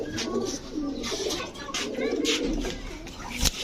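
Large high-flyer pigeons coo steadily and close by, soft repeated throaty calls layered over one another with a short sharp click near the end.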